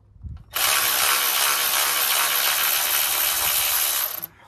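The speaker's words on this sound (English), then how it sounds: "Now we'll go grab Hubble's ratchet." A ratchet loosens a nut during removal of ancillary parts on a Ford Fiesta Ecoboost, giving a loud, continuous buzzing whir for about three and a half seconds after a brief knock, close up with no talking.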